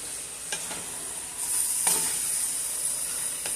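Beef stroganoff seasoned with garlic powder and pepper cooking in a pan, a bright, even hiss with a couple of clear stirring clinks and a slight swell in loudness midway, no talking.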